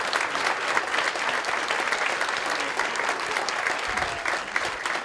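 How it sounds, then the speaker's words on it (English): An audience at a dental hygiene program pinning ceremony gives a warm round of applause. Dense, even clapping fills the room without a break for several seconds, close and loud, with no voices over it. "Let's give them a warm round of applause."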